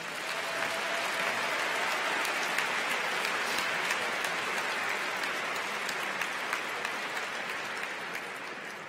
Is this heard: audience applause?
yes